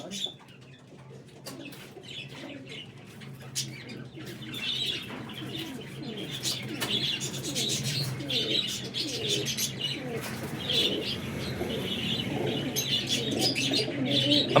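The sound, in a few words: flying pigeons cooing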